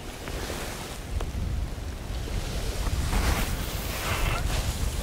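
Steady outdoor wind gusting across a microphone beside a fishing lake, a broad rushing roar that swells and eases throughout with no talk.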